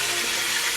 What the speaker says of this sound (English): I'm frying my chicken now.